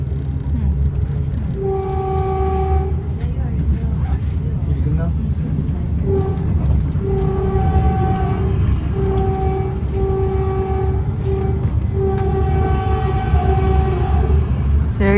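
A Caltrain commuter train horn sounds in repeated long, steady tones over a constant rumbling ride, loud and close, with several blasts spaced a second or two apart.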